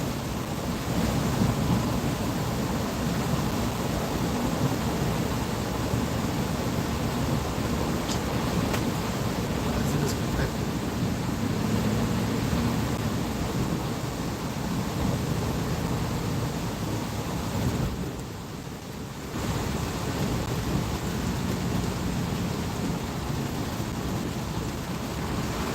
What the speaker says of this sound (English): and it's still raining, man.